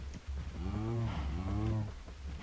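Minecraft cow mooing, two drawn-out bovine moos one after the other, loud and close, over a low background hum with no talk.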